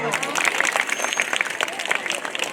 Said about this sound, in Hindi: ताली की बजाओ